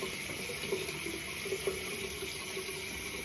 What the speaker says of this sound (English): after I'm finished rinsing my face with warm water